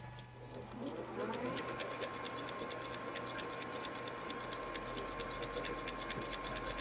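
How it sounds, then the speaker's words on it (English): Standard cut gears running under motor power on a shaper-cut gear test rig: a steady mechanical whir with fine rapid ticking and a faint high tone, moderately quiet and continuous with no talk. "The running test with standard gears."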